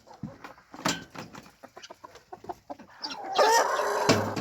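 Chickens clucking close by, a run of short scattered calls followed by a louder, busier flurry of squawking near the end.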